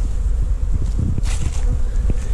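Honey bees pouring out of a hive entrance, a dense close buzzing drone with individual bees whizzing past the microphone, steady and fairly loud throughout.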